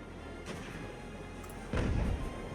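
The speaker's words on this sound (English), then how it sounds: "he's just unloaded a volley of cannons into our side" A cannon volley from a warship in the naval game Ultimate Admiral Age of Sail, a muffled rumble of broadside fire that swells into a louder crashing burst near the end, without talk.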